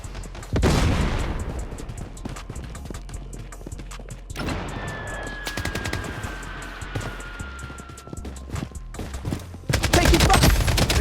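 Gunfire in the mobile shooter Project: Blood Strike, with bursts of shots and booming impacts at the start and end and a quieter middle stretch of scattered pops and a sweeping whistle.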